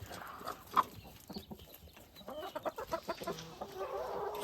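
Farmyard poultry and ducks cluck softly and irregularly in a quiet, distant-sounding yard, with a short sharper call early on.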